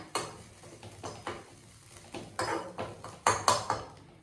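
Grated coconut roasting dry in a pan for an Andhra Kadapa garlic powder, with a spatula scraping and tapping the pan in irregular strokes over faint background sizzle, no voices.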